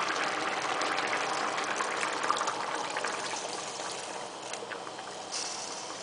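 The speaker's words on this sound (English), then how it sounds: "so I'm going to add in more hot water" Hot water poured from a container into a pot of lamb and vegetable stew, a continuous close gushing splash that eases toward the end, with no talking.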